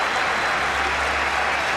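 Steady, dense applause from the Pindi cricket crowd greeting Sachin Tendulkar's fifty, a broad continuous clatter of many hands heard from a distance with no break.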